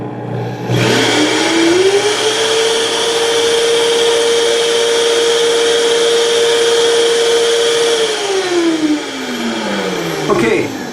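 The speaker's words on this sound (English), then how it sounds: "turning up the Vitamix blender all the way" A Vitamix blender spins up, holds a steady high-pitched whine at full speed for several seconds, then winds down, loud and close with a whirring motor tone.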